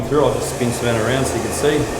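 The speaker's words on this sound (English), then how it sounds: "So excuse the noise, we're going to turn that blow dryer on." A handheld hair blow dryer runs steadily at close range while thick curly hair is dried straight in a salon, its constant whooshing hum sitting under someone talking.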